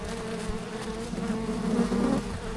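Bees buzzing inside a hive-removal vacuum box with the queen inside, a dense, steady droning hum heard up close and loud, swelling slightly toward the end with no talking.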